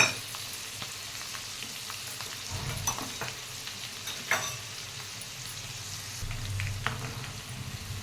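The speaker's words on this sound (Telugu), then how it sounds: "ఇవి కొద్దిగా వేగేటప్పుడు మన ఎండుమిర్చి కూడా వేసుకోవాలి" Dry red chillies fry in oil for tempering, giving a soft, steady sizzle and crackle with a few faint pops, close and fairly quiet throughout, no voices.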